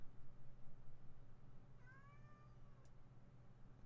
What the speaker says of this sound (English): I apologize for the cat you're hearing in the background.